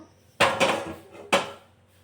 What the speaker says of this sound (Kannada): ಗ್ಯಾಸ್ ಆನ್ ಮಾಡಿಕೊಂಡು ಒಂದು ಕಡಾಯಿನ ಇಡಬೇಕು